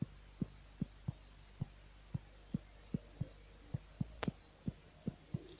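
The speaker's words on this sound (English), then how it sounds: "Super hot bass, guys" Deep sub bass thumps from an FL Studio Mobile kavalungu beat, a steady run of short, regular low pulses over a faint hum, quiet and with no talking.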